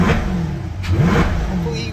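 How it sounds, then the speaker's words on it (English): A Corvette E-Ray engine fitted with a cold air intake runs close by, a mid-pitched engine tone rising and falling with a brief rev, alongside a man's speech. "Hopefully you guys can hear that nice, strong air intake sound now."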